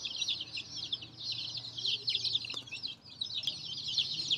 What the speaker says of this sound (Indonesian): kali ini kita mau kasih makan ayam.